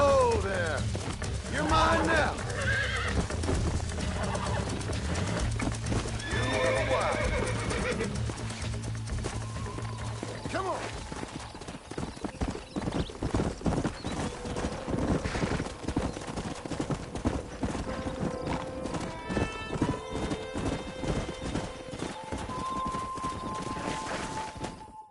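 A stallion in Red Dead Redemption clops along on its hooves with occasional whinnies, heard over a continuous game soundtrack while people talk throughout.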